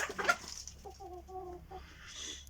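A free-range village hen clucks in a short run of soft, evenly spaced notes, fairly close, with a brief burst of other noise just before.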